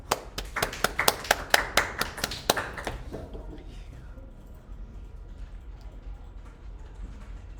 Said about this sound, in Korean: 자 다들 박수.